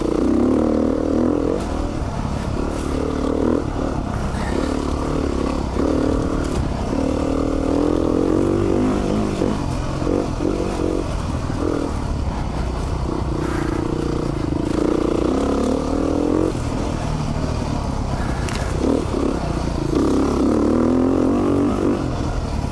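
A Beta 390 RR dirt bike engine drones steadily in third gear, loud and close, with its pitch rising and falling as the throttle changes while riding.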